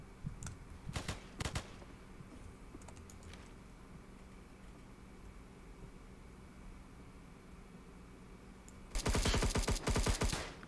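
Gunfire in Roblox Operations: Siege, short sharp bursts early on and a longer loud rapid volley near the end, with a low steady game hum and faint clicking in between.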